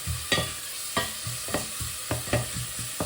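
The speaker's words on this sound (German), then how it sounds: "kurz umrühren." A spoon stirring green borscht, a sorrel soup with eggs and potatoes, in a pot, making regular knocking scrapes about every half second, close and clear with no voices.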